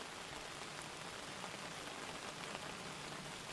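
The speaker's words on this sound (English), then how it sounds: "Ooh, it's raining." Rain falls steadily in the video game Outbound, a dense even hiss of drops on surfaces that holds without a break at a low level.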